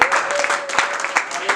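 A church congregation applauds during a sermon, brief dense clapping with several sharper bursts, fairly loud and close, blended with the murmur of voices.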